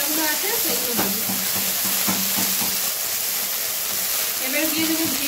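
Garlic and spices frying in a pan give a steady, close hiss of sizzling oil with occasional stirring, and faint voice sounds near the end.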